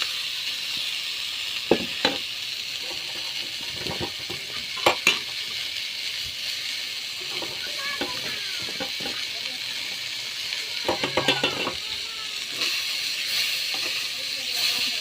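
Kolmou greens fry in a pan with ginger, garlic and turmeric, a steady sizzle and hiss broken by scattered scrapes and clatters of stirring across the pan.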